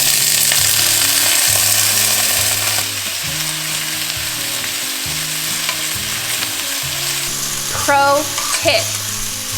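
Breakfast potatoes fry in a little oil in a preheated pan with a loud, steady close sizzle, while background music runs underneath and a voice speaks briefly near the end.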